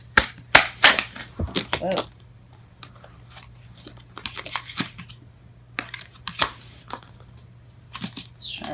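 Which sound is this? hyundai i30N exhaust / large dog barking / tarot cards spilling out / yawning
tarot cards spilling out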